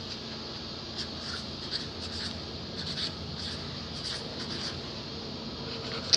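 A child writes with a pencil on paper, a steady soft scratching with small strokes and taps, close and continuous against a faint room hum.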